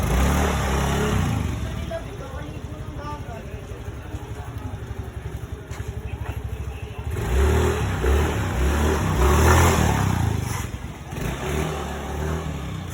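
A motorcycle engine runs during a test drive, a continuous mid-pitched drone that swells as the throttle opens, with wind and road noise mixed in.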